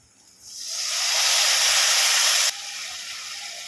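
A splash of water hitting hot frying spice paste of ground coriander and cumin for a Bengali rohu fish curry, bursting into a loud, close sizzling hiss that swells and then settles to a steadier, softer sizzle.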